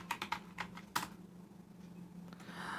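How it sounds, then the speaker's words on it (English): Keys clatter on a computer keyboard as a web address is typed into a browser. A quick run of crisp, close keystrokes comes first, then a few scattered taps and a quieter stretch. "on Google I'm typing Convertio"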